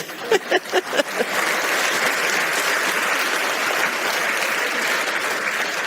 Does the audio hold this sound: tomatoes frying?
no